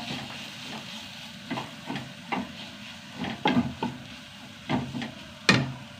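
Asafoetida and sambar powder sauté in a pan while a spoon scrapes and stirs in repeated, uneven strokes over a low, steady sizzle, close and moderately quiet.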